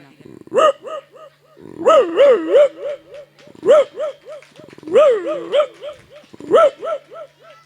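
A mimicry artist imitating a dog with his voice, a run of loud, close barks and yelping howls in bursts, some drawn out and wavering, as a dog reacts to a visitor.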